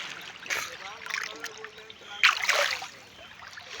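River water sloshing and trickling around someone wading into the middle of a river on a hot summer day, with splashy surges at about half a second and again near two and a half seconds, close by.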